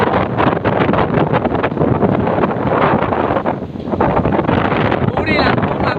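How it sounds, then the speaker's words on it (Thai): Strong wind roars across an outdoor microphone in steady, loud, buffeting gusts for the whole stretch, a dense rushing noise with no pauses. "ลมแรงมากเลย"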